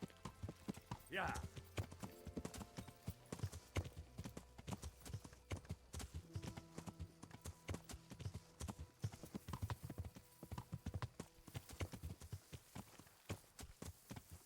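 Horse hooves clip-clop steadily and rapidly at a trot in the video game Kingdom Come: Deliverance, at night by a river, fairly quiet, with a brief sharp sound near the start.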